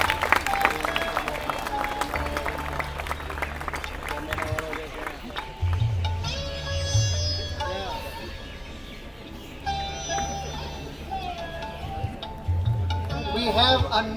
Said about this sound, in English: I request you all to please honor it with a big round of applause.